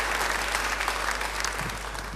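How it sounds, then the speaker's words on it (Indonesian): A church congregation bursts into sustained, dense applause, a broad wash of many hands clapping together with a low hum underneath and no pause. "Beri tepuk tangan yang baik buat dia."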